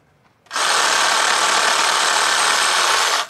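A sawzall reciprocating saw cuts through a tree branch to trim out a fence stay, with a steady, loud buzzing rasp that starts abruptly and holds for about three seconds before stopping. Nobody speaks.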